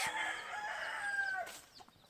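A gamefowl rooster on a farm crows once, a drawn-out nearby call of about a second and a half, followed by faint background clucks.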